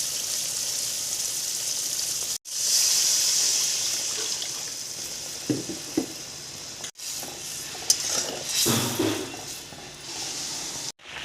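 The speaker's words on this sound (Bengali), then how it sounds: "এর মধ্যে এখন ঝোল দিয়ে দিব।" Broth poured into a pan of fish roe and potato curry, with steady hissing and watery simmering throughout, a few brief spoon-stirring knocks around the middle and later, and short pauses in between.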